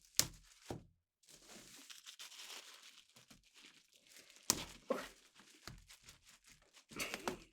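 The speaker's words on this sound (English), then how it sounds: "All wrapped in tissue paper." Tissue paper wrapped around a collectible doll crinkles and rustles as it is pulled off, in close, quiet bursts separated by short pauses, with a few sharper crackles and soft thunks of handling.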